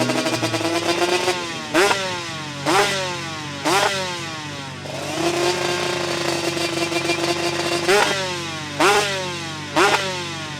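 Aprilia RS250 two-stroke V-twin motorcycle engine, 55 hp, blipped in a rapid series of sharp rising revs over a raspy, buzzing idle; close, loud and alone.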